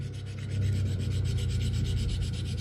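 A tremolo part from a Fender Jaguar J Mascis Signature guitar is filed down with rapid, even rasping strokes, loud and close in a continuous scraping rhythm.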